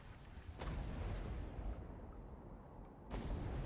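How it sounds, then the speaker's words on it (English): Ship cannons fire during a brig battle in the video game Atlas: two sharp booming shots about two and a half seconds apart over a constant rumbling low roar of battle noise. "Do you want me to try shooting the cannons manually?"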